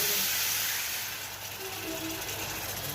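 Water poured into a pan of frying spice paste sets off a loud, steady hissing sizzle that fades slightly and keeps bubbling throughout.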